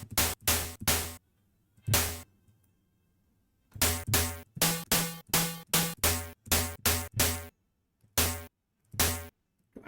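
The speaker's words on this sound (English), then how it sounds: "We just want the hint of this white noise" Short bursts of white noise built in Open ModPlug Tracker, about twenty sharp-attack hits that each decay quickly, falling in an uneven rhythmic pattern with silent gaps between, loud and close, with no voices.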